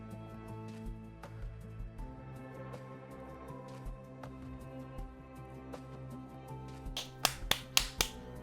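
A quick burst of four or five sharp hand claps lands near the end, loud and close, after a stretch of soft game music and ambient tones.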